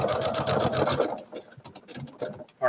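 A sewing machine stitches a quilt along a dashed line in a fast, steady run of close mechanical clatter that stops after about a second, followed by quieter handling noises.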